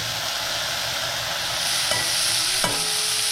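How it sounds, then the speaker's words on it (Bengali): Dried shrimp frying lightly in oil for potol chingri, a close, even sizzle with a couple of brief utensil taps near the end. "চিংড়ি মাছটা একটু ভাজা ভাজা করে, খুব বেশি ভাজতে হবে না"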